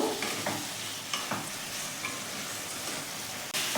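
Pumpkin and potatoes being stirred with spices in a hot pan for a Bengali pumpkin curry, a soft continuous sizzle with scraping spoon strokes at irregular intervals, close and fairly quiet.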